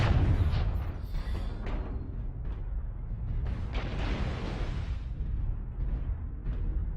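Artillery strike in a mech combat game, a string of deep booming blasts and crackling impacts rolling one after another, loud and rumbling, with no talk over them.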